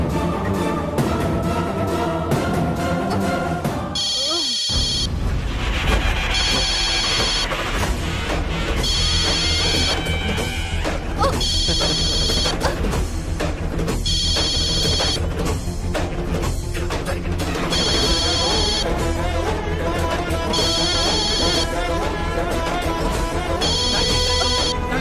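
A phone ringtone trills in repeated bursts about once a second, sounding over a steady bed of dramatic music after a brief pause in the score.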